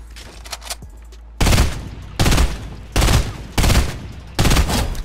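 Gunshots in the video game Fortnite: after a quiet start, five loud bursts of rapid firing, each about half a second long, separated by short gaps, close and dominant.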